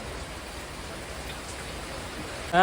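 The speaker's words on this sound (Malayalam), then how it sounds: "അടിപൊളി മഴ പറഞ്ഞാൽ അടിപൊളി മഴ" Heavy rain falls as a dense, steady hiss of drops on surfaces, loud and continuous, with a brief louder tonal sound at the very end.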